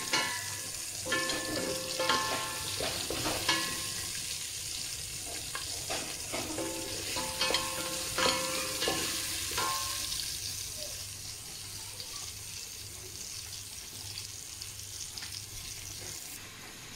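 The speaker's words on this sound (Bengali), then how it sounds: "এই ফাতিলের মাঝে মাছগুলো একটু ভেজে নিই, একটু হালকা ভেজে নিচ্ছি" Shrimp frying lightly in hot oil in a pan, a steady close sizzle with scattered stirring clatter and utensil knocks in the first ten seconds, then a smoother continuous sizzle to the end.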